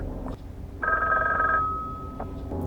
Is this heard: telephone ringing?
yes